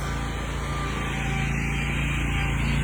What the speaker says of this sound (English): Sorry about the noise in the background. They're cutting grass.